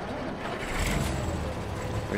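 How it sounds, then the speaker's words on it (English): A tractor engine in the video game Farming Simulator 15 runs with a steady, continuous low rumble and broadband drone as the vehicle starts moving, holding at an even loudness throughout. "Okay, so now we're gonna move this tractor."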